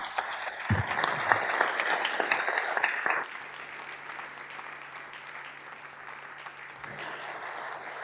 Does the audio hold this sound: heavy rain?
no